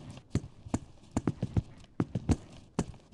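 Hooves of a horse at a collected gallop in a riding video game thud in an uneven, rhythmic clip-clop, with sharp close strikes landing in pairs and triplets.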